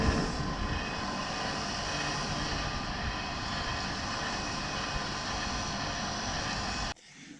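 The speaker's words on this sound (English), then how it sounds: "Just like to give it a bit of a clean up on a wire buff" A motorcycle brake retaining bolt held against a spinning wire buff wheel gives a steady, loud motorized roar and hiss that runs unbroken, then drops off abruptly near the end.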